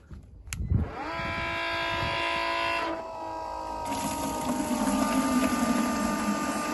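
A pump moves maple sap through a hose into buckets. It starts with a clunk, then gives a steady tonal whine and hum that shifts pitch partway through, with rushing liquid building underneath.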